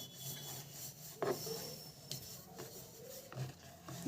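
A rolling pin presses out flour-dusted aloo paratha dough on a board, making soft rubbing strokes with a few light knocks and taps, close by and fairly quiet, with no talk.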